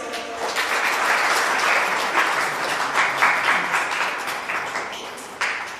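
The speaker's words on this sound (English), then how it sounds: "And a big round of applause for your mentors." Applause for mentors at an interschool newspaper reading competition, a full crowd clapping that builds quickly, holds steady with scattered sharper claps, then tapers with a brief late spike.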